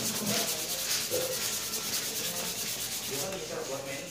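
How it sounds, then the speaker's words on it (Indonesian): Hand sanding with fine sandpaper on a repaired, previously broken wooden guitar neck, a close, steady scratchy rasp with rhythmic back-and-forth strokes continuing throughout, no voices. "Habis itu diamplas halus"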